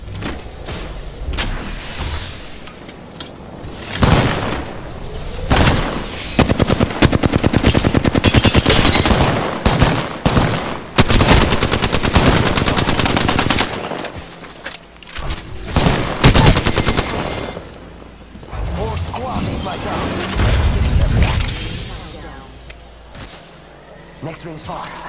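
Rapid bursts of automatic gunfire and single shots in the Apex Legends battle royale video game, loud and near, coming in repeated volleys with brief pauses between them, alongside in-game booms and a speaking voice.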